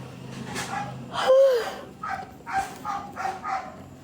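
A dog barks repeatedly in short, close yips with a brief whine, several barks in a loose rhythm over a quiet background.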